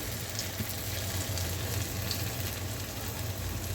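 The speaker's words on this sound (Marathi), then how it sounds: "मी तळून घेते" Medu vada frying in hot oil over medium heat, a steady, continuous sizzling and bubbling throughout, fairly soft and close, with no voices.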